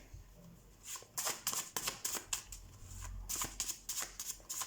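Handmade tarot card deck being shuffled close up, a run of quiet rapid riffling bursts in two clusters separated by a short pause.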